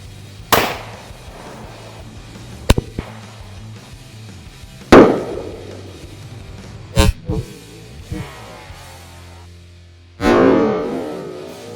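Glock 21 pistol firing 230 grain Hornady XTP .45 ACP rounds at cantaloupes outdoors, several sharp, widely spaced shots with echoing tails, each cracking loudly against quiet background, the last one followed by a lingering splattering decay.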